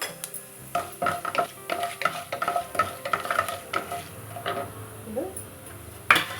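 Cumin seeds crackle in hot oil in a pan for semiya upma, with irregular stirring scrapes and utensil clinks over a light sizzle, close by.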